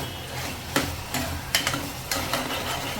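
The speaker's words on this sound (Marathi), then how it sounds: "त्याच्यामध्ये डाळ पण मस्तपैकी फ्राय पण होते" Dal fries with spices in a pressure cooker under a soft continuous sizzle, with a few sharp scraping stirs of a spoon at intervals, close and fairly quiet.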